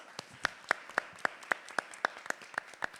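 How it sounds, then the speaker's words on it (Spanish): An audience claps at an entrepreneurship event in Gran Canaria, a thin, steady rhythm of close, individual claps repeating about every quarter second, with no speech. "Un aplauso para ellos, por favor."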